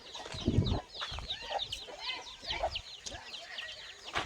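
Free-range country chickens and chicks on a farm cluck and peep in quick, scattered bursts close by, with a low voice murmuring underneath.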